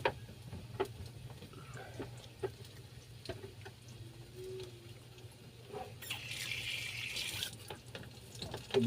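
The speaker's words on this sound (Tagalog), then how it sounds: "Tubig." Water runs from a kitchen tap while adobo chicken with pechay is being cooked, a steady hiss that swells louder for a couple of seconds near the end, with scattered small clicks and knocks around it.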